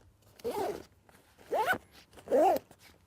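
Three short zipper pulls on the top lid of an Osprey Flex Capacitor hiking backpack, quiet and close, each a brief raspy burst about a second apart.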